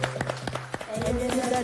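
Audience at a folk music studio session clapping for a female singer, quick rhythmic claps near and moderately loud, fading into sustained music tones and voices.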